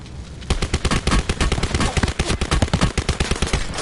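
Rapid automatic gunfire rattles through a video game gunfight, loud and near, with dense overlapping bursts that keep going for several seconds, no voices over it.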